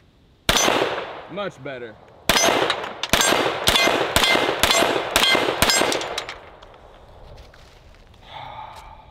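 Shots from a pistol-braced gun ring off a steel target: a sharp crack at half a second, then after a pause a rapid string of about nine loud shots with metallic clangs, a short remark from the shooter, and quiet afterward.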